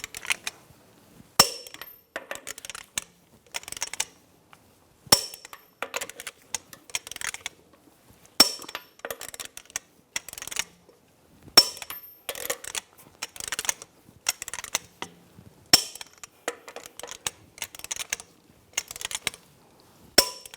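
Torque wrench tightening lug nuts to 140 foot-pounds on the rear wheel of a 2015-2020 Cadillac Escalade: crisp ratcheting clicks in irregular clusters with quiet gaps, close and dry.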